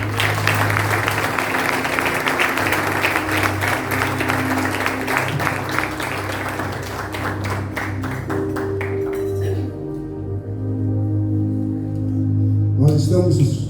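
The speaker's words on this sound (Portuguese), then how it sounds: "Você pode aplaudir o Senhor." A church congregation claps loudly during a worship service, with dense, fast applause for about nine seconds that thins out as sustained music carries on underneath.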